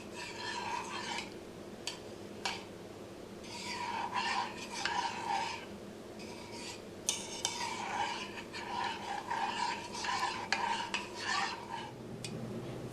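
Instant yeast being stirred into a bread dough mixture in a bowl for Pan de Agua, a steady scraping and rubbing of utensil against bowl with irregular clinks, close and fairly quiet, no talking.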